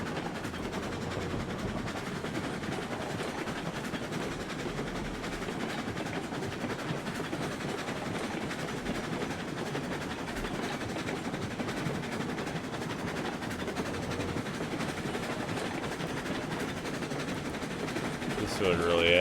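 Trains run in RailRoads Online with a continuous rolling rumble and faint rhythmic clatter that hold steady throughout, while a voice talks over them.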